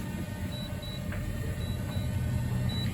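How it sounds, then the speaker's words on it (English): A faint high electronic beep repeats in short pairs over a steady background hum, evenly spaced and quiet, from a DJI Mini 2 drone controller while the drone lands itself. "your controller is going to beep while it's doing it"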